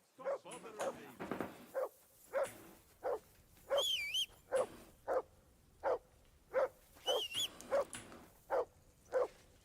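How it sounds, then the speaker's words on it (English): A dog barks over and over in Kingdom Come: Deliverance II, sharp regular woofs at roughly half-second intervals, with a short whine, a whistle and brief character voices between them. "Whistle at that mutt of yours to stop barking."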